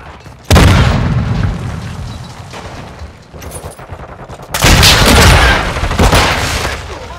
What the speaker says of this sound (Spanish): ¡Granada! ¡Moveos!